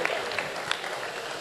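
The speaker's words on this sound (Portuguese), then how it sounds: "Uma salva de palmas." A crowd at a factory event in Bahia applauds the Brazilian minister of agriculture and livestock as he is introduced, a short spell of scattered, moderately distant clapping with a few sharper claps.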